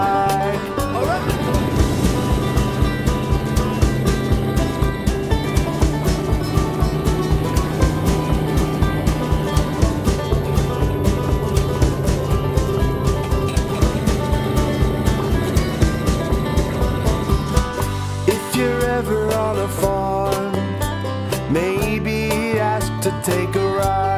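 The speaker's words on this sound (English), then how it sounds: "They have great big engines, and this is what they sound like." A big diesel tractor engine chugs loudly with a fast, regular knocking beat and a droning hum, then shifts to a rougher idle near the end.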